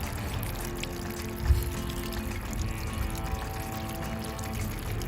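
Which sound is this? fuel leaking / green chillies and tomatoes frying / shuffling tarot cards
fuel leaking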